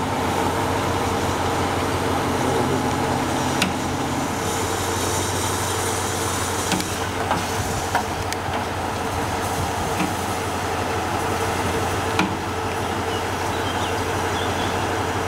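Train hauled by steam locomotive 50 3616 on a transformer transport run near Grünstädtel, a continuous loud rumble of rolling wagons with occasional wheel clicks, steady and close throughout.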